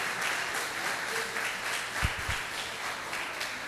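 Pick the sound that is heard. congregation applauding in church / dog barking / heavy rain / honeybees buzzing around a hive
congregation applauding in church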